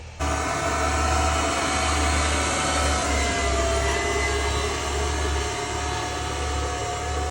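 A tractor engine drones steadily and loudly up close as it turns at the end of a field during mustard seed sowing, with a continuous low rumble and no pauses.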